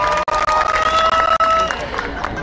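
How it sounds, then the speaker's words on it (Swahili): A dense crowd at a UDA political rally in Kisii roars and claps to welcome a senator, a loud continuous wash of cheering and applause with a voice over a loudspeaker on top. "Tupigie makofi"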